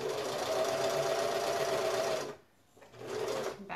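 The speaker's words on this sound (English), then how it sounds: "and that's where I start sewing." A sewing machine stitches the binding on a quilted placemat with a fast, steady, close mechanical whir. It stops briefly, then starts up again.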